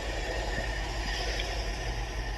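A train crawling slowly in a video game, a steady broadband rumble with low rolling rail noise running evenly throughout, fairly loud and with no voices.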